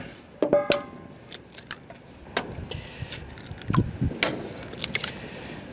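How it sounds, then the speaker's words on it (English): Eggs are cracked on a flat surface for Chicken Kiev breading, giving a few sharp close taps and shell cracks followed by soft handling clatter, with no talking. "let's get our eggs cracked and mixed"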